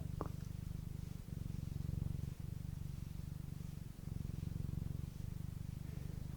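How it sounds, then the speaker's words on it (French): An elderly 15-year-old cat purrs close up, steady and low, its rhythmic rumble continuing through the whole stretch with only brief pauses between breaths. "J'espère qu'on entend bien le ronron."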